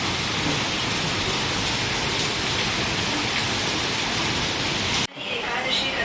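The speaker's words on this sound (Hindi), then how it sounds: "देखो बारिश कितनी ज़्यादा तेज़ है आज।" Heavy rain pours down in a steady, dense roar for several seconds, then cuts off abruptly, leaving a faint hiss.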